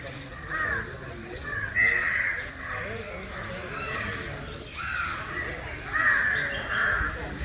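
Crows caw repeatedly among the trees at the Punnathur Kotta elephant camp near Guruvayur, their harsh calls coming in bursts over a steady outdoor murmur with faint voices in the background.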